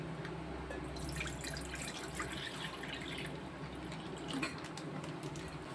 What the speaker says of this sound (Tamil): இப்போ கொஞ்சம் பால் வந்து நம்ம வெட்டி ஊற்றிக்கிறோம்